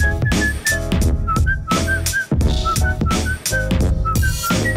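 Whistling in a song: short, bright whistled notes repeat in a looping melodic pattern over loud beat-driven music with heavy bass and percussion.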